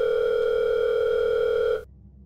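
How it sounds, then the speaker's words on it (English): A phone sounds a single steady electronic tone, loud and clean, that cuts off abruptly after nearly two seconds, leaving near silence. "phone rang again"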